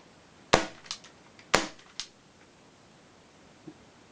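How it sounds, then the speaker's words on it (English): A Socom Gear Gemtech Oasis propane airsoft gun fires two quiet, sharp pops about a second apart, each trailed by a light mechanical clack, then a faint click; close and dry with no talking. "That is a quiet gun, okay?"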